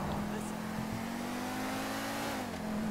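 A car engine in GTA Online roars steadily as it drives, holding a sustained revving drone that dips slightly in pitch near the end.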